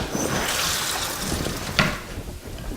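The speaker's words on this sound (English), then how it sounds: "I'm gonna go wash this egg off my hands" Tap water runs steadily while egg is rinsed off hands at a kitchen sink, a continuous close splashing hiss with one brief sharper splash partway through.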